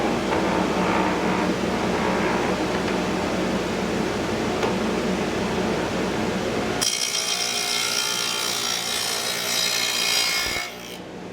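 Saw cutting wood, a continuous rasping cut at close range that shifts to a brighter, higher-pitched whine partway through before winding down near the end.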